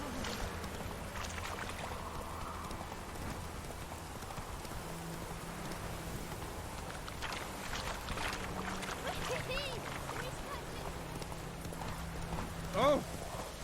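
Hooves of the horse Roach clip-clopping in The Witcher 3, a steady rhythmic gait under a light wash of ambient game sound, with a voice speaking briefly and a short sharp effect near the end.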